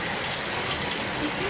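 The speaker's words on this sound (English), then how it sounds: "We use a sprinkler system that's up above the view of the camera." Steady, dense hiss of water falling from an overhead sprinkler rig used to make rain on a film set, continuous and even throughout with no breaks.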